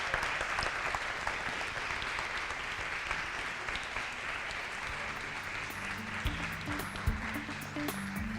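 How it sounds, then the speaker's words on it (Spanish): Steady audience applause fills the room at a book presentation, a dense continuous clatter of many hands that holds evenly throughout, with faint low murmurs beneath. "les pido un fuerte aplauso tanto para el autor del libro como para los protagonistas"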